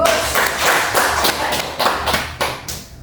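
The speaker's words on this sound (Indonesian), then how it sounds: "Tepuk tangan untuk kalian." Students clap in a classroom with a burst of close, loud, irregular hand claps that carry on steadily, punctuated by a few sharper peaks.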